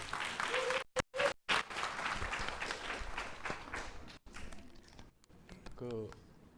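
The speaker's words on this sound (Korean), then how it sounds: "뜨거운 박수로 환영 바랍니다." Warm applause from an audience at a workshop welcoming a presenter, a broad burst of clapping with brief gaps, fading out as a voice begins speaking near the end.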